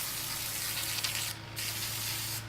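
A light spray of acetone hisses from a can in a steady broadband stream lasting a couple of seconds, with brief dips in the hiss over a low constant hum.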